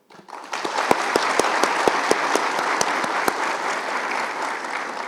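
An indoor audience bursts into steady applause for municipal park and garden staff at a training event, starting abruptly and holding dense and close, with a few sharper individual claps standing out.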